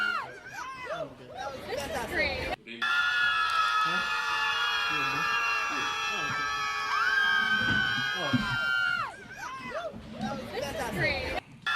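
Angry protest crowd in Foley Square, New York, over abortion rights: a sustained, dense wall of screaming and shouting voices holds steady for several seconds, bracketed by nearer chatter and talking before and after.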